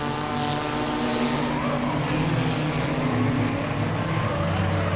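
Race cars roar continuously through the turns during a Langley Speedway enduro, several engines layered into a loud, steady drone with no break.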